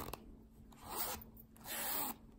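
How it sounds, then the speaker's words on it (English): A matte micro zipper on a Louis Vuitton GM Neverfull monogram bag is slid in two slow, smooth rasping pulls, each about half a second long, close and quiet with no one speaking. "It has also a matte zipper there. The zipper is also micro."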